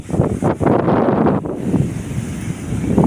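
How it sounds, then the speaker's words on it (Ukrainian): Strong gusts buffet the microphone with rough roaring bursts, while surf rumbles underneath in a steady seaside wash. "От вітер сьогодні гарний є"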